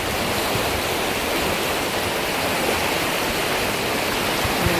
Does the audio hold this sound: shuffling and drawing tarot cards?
no